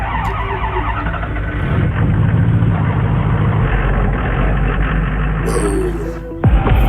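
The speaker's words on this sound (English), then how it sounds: "I'm gonna see if this fires up to make sure that our engine's not hydro locked" A car-style engine in the Monstermax build being cranked and firing up, a loud, steady low rumble with rough churning that surges, then cuts off abruptly near the end with a brief high-pitched squeal.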